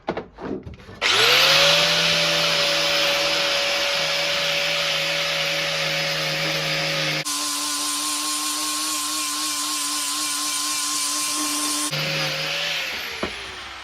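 An angle grinder works on Suzuki Bandit 1200 motorcycle parts during a restoration, spinning up with a sharp rising whine and then holding a loud, steady high-pitched drone. The tone shifts partway through and the grinder winds down at the end.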